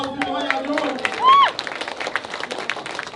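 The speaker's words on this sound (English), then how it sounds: "Give yourself a round of applause, people." A comedy club audience claps and cheers in a loose, scattered burst of applause, with a rising whistle-like voice over the crowd noise.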